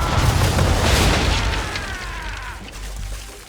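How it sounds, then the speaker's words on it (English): A broadside of ship cannons fires in Assassin's Creed III, a heavy, loud booming blast that rolls on and slowly fades over a few seconds. "Now, aim all guns at her bow and do as much damage as possible. Fire!"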